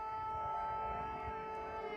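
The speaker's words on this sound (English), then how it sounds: "Man, those are those classic sirens." Distant air raid sirens hold a steady wailing tone over low rumbling background noise, continuous throughout.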